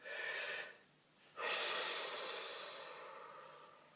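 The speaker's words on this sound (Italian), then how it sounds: "facciamo un bel respiro." Someone takes a deep breath, a close airy inhale followed after a short pause by a long, slowly fading exhale.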